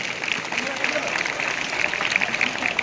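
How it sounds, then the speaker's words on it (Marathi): Crowd applause welcoming guests at a village gram panchayat Independence Day ceremony, a steady dense clatter of many hands sustained for a few seconds at moderate distance. "सर्वांनी टाळ्या वाजवाव्या, स्वागत आपण करायचं आहे. टाळ्यांचा कडकडाट झाला पाहिजे."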